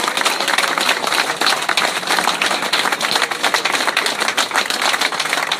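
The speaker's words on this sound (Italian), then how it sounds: "Facciamo un bel applauso alla Paola Guzzo e a tutti i candidati" A crowd at a rally in Godega di Sant'Urbano applauds Paola Guzzo and the candidates, dense and loud clapping sustained throughout with no voices standing out.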